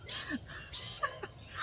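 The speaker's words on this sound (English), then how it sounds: "There's so many birds here, it's just amazing." Faint bird calls and short chirps from a distance over quiet outdoor background noise.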